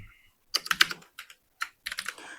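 C++ code being typed on a computer keyboard, clusters of crisp, close key clicks in quick bursts separated by short pauses, with no voices.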